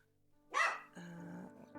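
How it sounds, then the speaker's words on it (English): A single short dog bark sounds at close range in a quiet indoor room, followed by a softer lingering tonal sound. "Also, excuse the dog"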